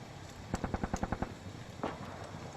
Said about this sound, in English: you can now hear gunfire and explosions in the distance